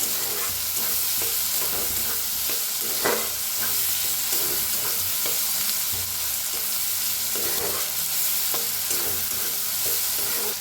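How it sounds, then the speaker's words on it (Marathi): Chopped onion and tomato fry in a pan, giving a constant loud sizzle with occasional stirring scrapes. No one talks. "त्याच्यातच टाकूया टमाटर एक टमाटर कापून घेतलं होतं धुवून मिक्स करून छान असं भाजून घेऊया"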